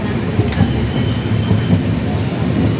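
Pallavan SF Express (train 12606) rumbling as it approaches Villupuram junction, a steady loud low rail drone with faint wheel clatter throughout, no talking.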